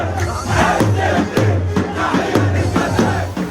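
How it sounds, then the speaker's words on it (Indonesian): Palestinian refugees of all ages cheer and shout in a dense crowd, rhythmic chanted bursts repeating roughly every half second, loud and close with a continuous roar beneath. "Pengungsi Palestina sorak-sorai merayakan pengumuman tahapan pertama rencana perdamaian"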